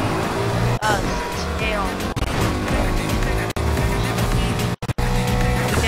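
A Mustang GT races in the video game Need for Speed Heat, with its engine revving loudly, gear shifts and tire squeals, while a player talks over the game audio.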